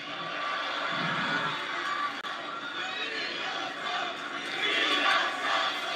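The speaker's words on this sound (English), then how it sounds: "the crowd's going wild there on Friday Night SmackDown in Des Moines, Iowa" A wrestling crowd at Friday Night SmackDown in Des Moines, Iowa roars steadily throughout, a dense wash of cheering and chanting voices with a swell toward the end.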